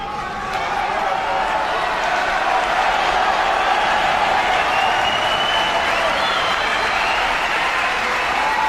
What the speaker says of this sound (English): The Wembley crowd are going crazy.